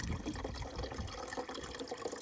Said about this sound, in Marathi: फायनली डबा भरला.